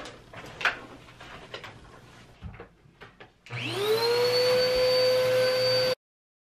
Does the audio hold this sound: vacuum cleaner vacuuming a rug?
yes